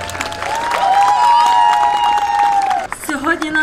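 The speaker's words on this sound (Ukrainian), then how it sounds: "Більше і більше оплесків товариства." A crowd at a joint Hutsul dance gathering in the mountains, with over 500 participants, applauds in a continuous rattle of clapping while a strong voice carries over the top.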